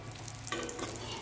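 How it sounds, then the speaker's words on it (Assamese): Pitha cakes frying in oil give off a soft, continuous sizzle, quiet and close, with a slight bubbling lift partway through and no voices. "এয়া মই পিছবেলালৈ পিঠাখিনি এয়া মই এটা এটাকৈ ভাজি গৈছোঁ"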